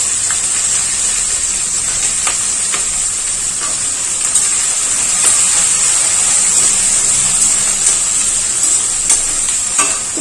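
Green chillies fry in hot oil with a spice tempering for tamarind pulihora, a loud, steady close-up sizzle broken by occasional light clicks of stirring.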